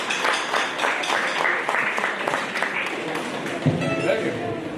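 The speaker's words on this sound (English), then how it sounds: "Round of applause, stand up." Audience applause for students at a school spring arts exhibition and music concert, a steady dense wash of clapping lasting throughout, with voices mixed in beneath it.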